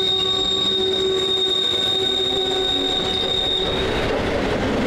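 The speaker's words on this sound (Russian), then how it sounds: "в 14:10 поезда дали гудок" Trains in Ukraine sound their horns: a sustained, steady tonal blast that holds for several seconds over a rumbling railway background, with no voices.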